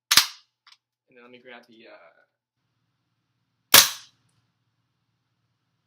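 A WE Apache MP5 gas blowback airsoft gun fires BBs: two sharp, loud single cracks roughly three and a half seconds apart, with someone speaking briefly between them.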